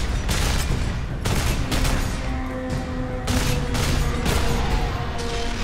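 Heavy bolter gunfire in the video game Warhammer 40,000 Space Marine: four loud, dense bursts of rapid shots, each about a second long, separated by short gaps, with a steady tonal background underneath.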